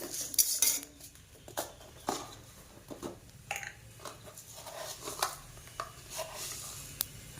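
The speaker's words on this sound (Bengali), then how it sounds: "এই মশলাটাকে আমি ভালো করে নেড়ে চেড়ে নেব।" Whole spices, coriander seeds and cumin, stirred in a pan with a metal spoon for a mixed pickle, giving irregular clinks and scrapes against the pan with brief pauses between strokes.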